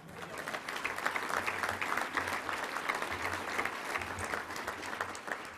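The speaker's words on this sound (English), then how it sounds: "You could clap for that." A luncheon crowd at a Little Rock Touchdown Club meeting breaks into steady, dense applause for a university's athletic record, sustained clapping at even volume throughout with a low hum beneath.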